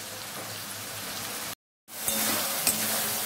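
Spice paste for a fish-head and cabbage curry fries in a pan with a dense, rain-like hiss and crackle, broken by a brief gap of silence, then resuming with a few spoon scrapes.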